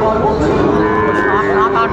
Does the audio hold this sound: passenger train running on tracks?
no